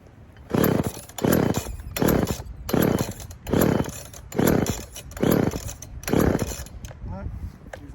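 A 2-stroke petrol RC boat engine is cranked again and again without catching, seven regular pull bursts of rough, choked engine noise close by, with quiet gaps between them.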